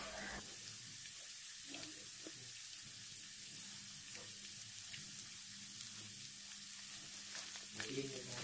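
Sweet corn and sticky corn stir-fried together in a pan give a soft, steady sizzle, with occasional scraping stirs rising toward the end.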